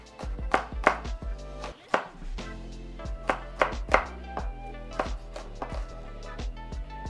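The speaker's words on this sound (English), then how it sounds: "You want really tiny pieces of the jalapeno." A knife chopping jalapeno into tiny pieces on a cutting board, a series of quick close knocks in uneven bursts with a brief pause, crisp and fairly loud with no voices.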